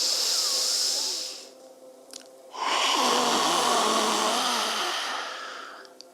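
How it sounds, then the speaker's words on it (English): Two forceful lion's breath exhalations during a yoga class, long breathy hissing rushes separated by a brief pause, close and loud, with no spoken words. "2 lion's breaths here."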